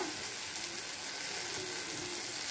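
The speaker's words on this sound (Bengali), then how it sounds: "মশলাটা ভাজা ভাজা হয়ে গেছে।" Tomatoes with salt, ginger and turmeric fry in a pan, giving a faint, steady sizzle with a soft hiss and no voices.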